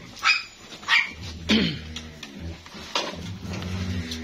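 Several sharp dog barks at irregular intervals, close by and loud, with a short whiny yelp mixed in, from dogs at a dog shelter with large dogs kept in cages.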